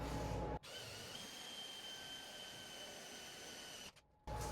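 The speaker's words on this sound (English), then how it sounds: "So I'm going to drill a hole next to all this used material." A power drill bores a hole into metal beside used material during CNC machine work, giving a steady, close, continuous whine for a few seconds that stops briefly near the end before resuming.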